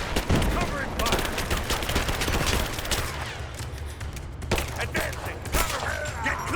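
Sustained bursts of video-game gunfire laying down covering fire, rapid automatic shots crackling continuously and fairly loud with some heavier cracks, over a dense battle background.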